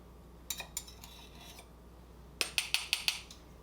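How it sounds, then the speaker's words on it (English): Dry ingredients for cookie dough (flour, salt, milk powder) whisked in a bowl: two quick bursts of bright metallic tapping and clinking, a few soft strokes, then five sharper rhythmic taps, close and clear with no talk. "I just whisk that together"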